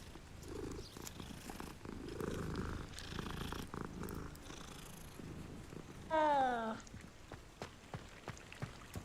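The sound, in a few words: cat purring, from video game Hogwarts Legacy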